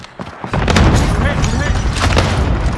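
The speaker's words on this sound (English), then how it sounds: "Enemy cluster strike!" Heavy rolling booms and thuds from an enemy cluster strike in Call of Duty: Warzone, a dense barrage of explosions starting abruptly and sustained loud throughout, with battlefield chatter mixed in.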